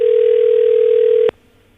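A telephone line tone on an unanswered call during a Barbados morning radio call-in, a loud steady electronic tone that holds for over a second and then cuts off abruptly, leaving only faint line hiss.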